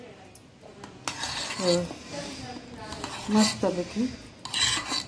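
Yogurt is whisked in a bowl, with scraping, clinking strokes of the utensil against the sides in irregular bursts, while someone talks over them.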